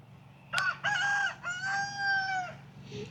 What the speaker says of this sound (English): we're gonna go ahead and let the chickens out for the day